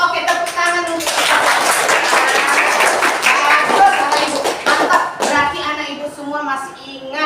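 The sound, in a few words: children in a class applauding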